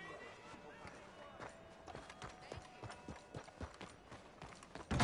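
Horse hooves clip-clopping in a quick, steady galloping rhythm in the video game Red Dead Redemption 2 Online, moderately loud against a faint background drone.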